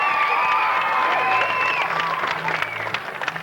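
A studio audience claps and cheers to welcome Pat Benatar, loud sustained applause with whoops and whistles that gradually thins out toward the end.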